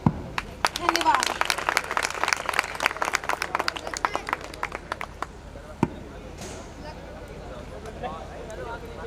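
Applause from an audience at a college farewell ceremony, dense rapid claps building over the first few seconds then thinning into scattered claps, with a crowd murmuring underneath.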